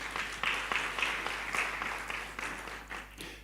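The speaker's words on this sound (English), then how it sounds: "A hand of applause for the Africa Forest Forum" Applause at a forum session on partnerships and commitments, a moderate crowd clapping in uneven bursts, somewhat distant and fairly soft, over a steady low hum.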